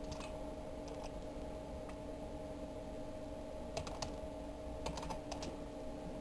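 Scattered keystrokes on a computer keyboard, clicking in small bursts over a steady hum of background noise and game audio.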